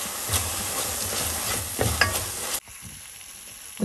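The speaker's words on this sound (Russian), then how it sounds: "Вот поджариваю лук, когда он начинает приятно так жарено пахнуть." Onion fries in a pan with a steady, close sizzle and occasional stirring scrapes, then the sizzle cuts off abruptly and a faint hush follows.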